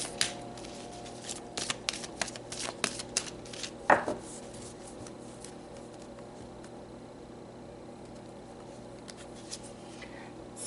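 Tarot cards are shuffled in quick soft riffling bursts near the microphone, a rapid run of papery flicks and taps that stops after a few seconds and leaves a quiet steady hiss, with no talking.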